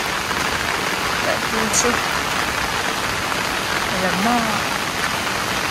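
Steady rain falling on a campsite, a constant close hiss of drops on surfaces, with brief speech in between.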